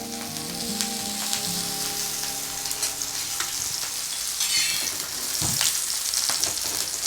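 Green chillies stir-fried in a little oil in a pan over a low flame, giving a continuous sizzle and crackle. A spoon scrapes and stirs intermittently, and no one speaks.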